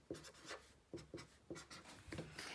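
Writing out an algebra equation by hand, probably marker on a board, with several short scratchy strokes in quick bursts, close and fairly quiet, with no voice.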